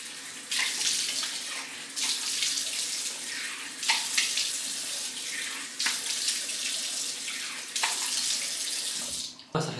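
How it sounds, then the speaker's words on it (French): Running bathroom tap water splashing steadily into a sink while a face is rinsed, with rhythmic surges as hands scoop and splash water, close up and without talking, ending abruptly. "Je me rince, j'arrive."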